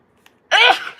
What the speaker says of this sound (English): I feel like I'm gonna sneeze